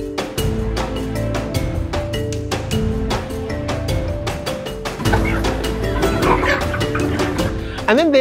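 Kuroiler dual-purpose chickens clucking on a farm, a busy mix of nearby clucks and calls, with a dog barking at moments in the background.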